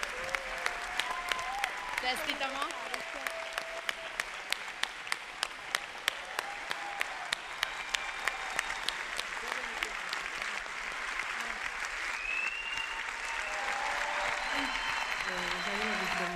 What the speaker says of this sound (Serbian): Veliki aplauz za Nikolinu.